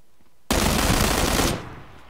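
Gunfire in the video game PUBG: a loud, close burst of rapid automatic shots lasting about a second, cutting in abruptly from quiet and then trailing off into a fading echo.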